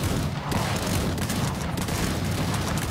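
Dense crackling gunfire from a line of redcoat infantry firing muskets in Rise of Liberty, a large-scale battle game, with overlapping shots rolling on continuously and loudly for the whole stretch.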